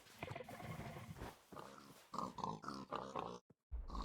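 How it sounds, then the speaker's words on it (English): Pigs in a video game grunt and snort in a rapid run of short, close, choppy calls, briefly cut off by a moment of silence before resuming. "Bro, y'all are having trouble getting these pigs."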